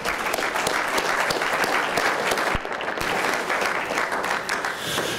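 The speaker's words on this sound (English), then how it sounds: "So I think we need a round of applause for all the family and friends and support." A crowd at a 2012 LAVITA commencement ceremony gives sustained, dense applause that stays loud and even throughout, with no speech over it.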